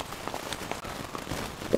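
Heavy pouring rain during a thunderstorm in New Hampshire beats steadily on surfaces nearby, a dense hiss of drops with a few sharper spatters, loud and unbroken.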